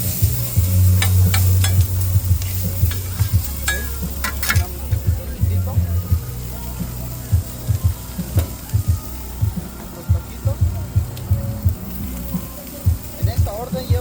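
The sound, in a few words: food sizzling on a taco food truck grill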